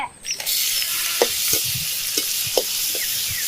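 Mustard seeds, fenugreek, chopped onion and garlic frying in wood-pressed oil for a curry-leaf kuzhambu, a steady close sizzle with a few soft stirring scrapes and pops over it.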